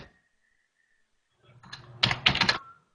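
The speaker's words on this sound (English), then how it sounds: "we can hear him typing" Typing on a computer keyboard heard over a remote call connection: faint key clicks build up after a quiet pause, then turn into two louder, rapid bursts of keystrokes.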